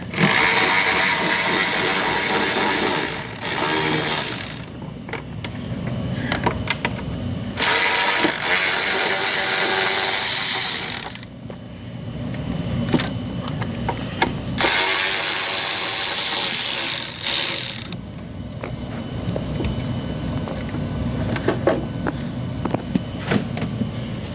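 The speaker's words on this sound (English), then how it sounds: "we're going to just continue taking these bolts out that go around it" Timing cover bolts coming off a 2004 Toyota Sienna engine, with loud bursts of a power tool or ratchet whirring in several long runs separated by brief pauses and metallic clicks.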